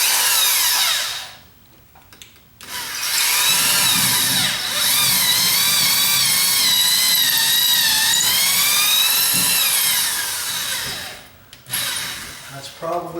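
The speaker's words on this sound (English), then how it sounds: "so that's where I'm going to drill" Power drill boring into a drywall garage ceiling, a loud, steady whine with shifting pitch lasting about nine seconds, stopping briefly near the start and again near the end.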